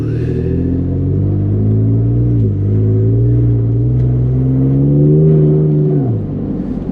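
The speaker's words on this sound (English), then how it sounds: "You can hear a little bit more of the turbo, but and it does feel a little more peppy." A Ford F-150 EcoBoost turbo engine fitted with an aFe cold air intake revs up steadily from inside the cab, its loud droning pitch climbing with a faint turbo whir, dipping briefly, then dropping off near the end.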